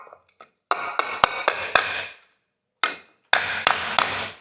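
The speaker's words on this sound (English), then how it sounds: "I've got a piece of wood so I can hammer it in without damaging my plaster." Hammer striking through a piece of wood against a plaster wall, heard as sharp, close knocks in two quick clusters with a short pause between them and no talking.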